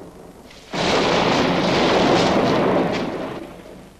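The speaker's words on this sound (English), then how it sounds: "From ancient times, man has feared thunder." A loud, close thunder rumble bursts in abruptly and roars steadily for nearly three seconds before fading away, with no voices.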